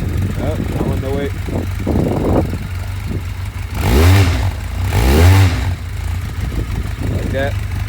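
A 2019 Jonway YY350-9a motorcycle engine idles steadily, then revs hard twice in rising-and-falling bursts, loud and close, with people talking briefly before the revs.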